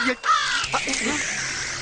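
A crow caws once in a rough, harsh burst during a Tamil comedy film scene, heard among voices and noisy background sound.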